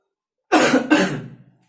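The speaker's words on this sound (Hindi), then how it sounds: "खांसी हुए यार।" Two quick, sharp coughs close to the microphone, one right after the other, followed by silence.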